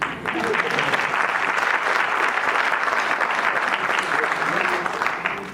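A seated audience at a Hindu religious discourse (katha pravachan) breaks into loud, dense clapping that swells quickly and holds steady for several seconds before easing off.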